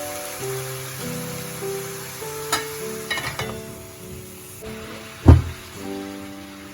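Gourd leaves dropped into a pan of hot oil, a soft sizzle with clinks and stirring scrapes, then a sharp hissing burst as the lid goes on.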